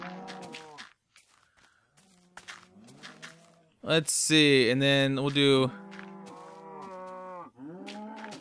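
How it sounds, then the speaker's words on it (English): Cows moo in the Minecraft video game: a short low call early on, then a loud, drawn-out chorus of overlapping moos from a nearby herd, with someone talking before and after. "Oh, there's a bunch of cows here."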